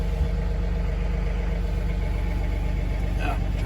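A John Deere 3039R compact tractor with a cab idles steadily in cold, snowy weather, a low even engine drone with a faint mechanical whine, continuous and close.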